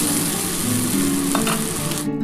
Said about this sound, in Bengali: এবার যে আমার পোস্তর জলটা আছে সেটা আমি দিয়ে দিচ্ছি।